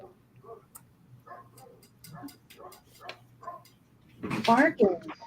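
A dog barks a few times close by near the end, following soft talking and light tapping.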